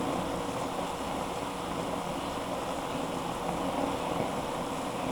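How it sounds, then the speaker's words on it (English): Water churns at a full rolling boil on a capillary hoop stove, a steady, even roar of bubbling with no breaks and no voices. "That's the water at full boil here."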